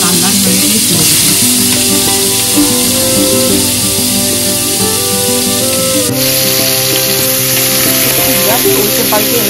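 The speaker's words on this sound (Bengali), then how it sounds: "মাছগুলো খুব বেশি ভাজবো না, হালকা লাল লাল হয়ে গেলে তুলে দেবো।" Prawns fry in hot oil in a home kitchen, a loud, continuous sizzle with occasional stirring scrapes holding steady from start to finish.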